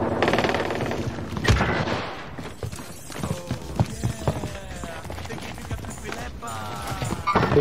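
Gunfire from Call of Duty Warzone, with sharp shots and bursts scattered through dense game sound, one loud crack standing out near the start and others quieter and farther off.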